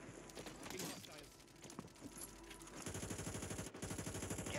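Rapid gunfire rattles in Warzone 3, bursts of automatic shots in quick rhythmic pulses, loudest and densest toward the end, with game radio chatter and ambient battlefield noise.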